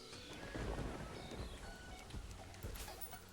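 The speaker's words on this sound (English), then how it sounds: "At some point, the rain set in." Rain pours steadily in the sandbox game Terraria while thunder rolls and rumbles low underneath, a dense, continuous downpour with scattered heavier drops and crackles.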